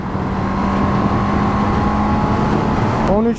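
A Honda CB650R E-Clutch motorcycle engine holds a steady, loud droning note, then drops with a quick falling pitch as it shifts down to fourth gear near the end.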